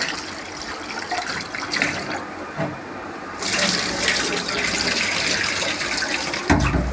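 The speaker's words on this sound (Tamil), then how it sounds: "இப்போ இந்த ரைஸை வந்து இன்னும் ஒரு டைம் நான் வந்து வாஷ் பண்ணிக்கிறேன்" Rice being washed in water, with running and sloshing water like a tap filling a pot, continuous and fairly close, a brief louder splash near the end.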